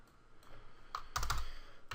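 Computer keyboard keystrokes as a short texture name is typed, a few quiet isolated taps followed by a brief quick cluster of clicks, close and alone in a quiet room.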